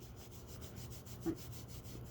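Paint is rubbed onto a flat surface with light, rhythmic strokes, a faint soft scrubbing repeated at an even pace with a small bump near the middle.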